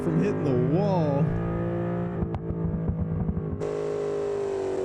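A 1972 Ford F-100 truck engine in BeamNG drive revs and drones with shifting pitch, sustained loudly, while someone talks over it.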